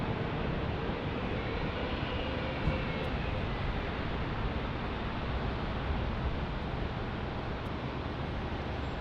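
An older Airbus A319 departing Phoenix Sky Harbor International Airport, heard as a continuous, fairly faint wash of broadband jet noise that stays level throughout, with no talking.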